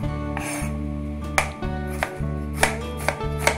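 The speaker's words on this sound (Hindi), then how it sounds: "देखिए, इस तरह से आपको सेम स्लाइसेस कट करना है।" A knife slicing onion into thin, even slices for biryani, with sharp, intermittent taps on a cutting board over a steady low background hum.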